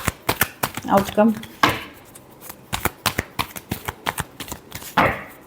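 Tarot cards being shuffled for a love reading, a run of quick crisp riffling slaps and flicks in an uneven rhythm, close and clear, with a voice speaking briefly over part of it.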